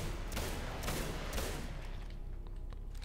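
Gunfire in the video game Singularity, a quick cluster of several sharp shots in the first second and a half, fairly faint, then trailing off into quieter ambience.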